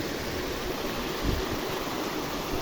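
Steady rushing spring water flows continuously at its source, a drinking-water spring, a broad even wash of sound with no voices.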